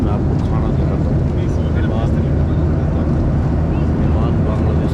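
Steady, loud broadband roar of airplane cabin noise on a Biman Bangladesh flight from Delhi to Dhaka, a constant dense engine and airflow drone running unbroken throughout, with someone talking faintly beneath it.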